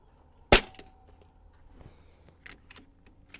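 An AirMaks Arms Katran .25 air rifle fires a single sharp, loud shot on an outdoor range, followed by faint clicks and handling noises in the quiet afterward.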